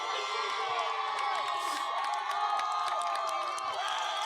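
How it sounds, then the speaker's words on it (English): Steady roar of a high school football crowd cheering and shouting at a league championship game, dense and continuous throughout with whoops rising from both sides of the field. "Coaches are trying to get the crowd pumped up."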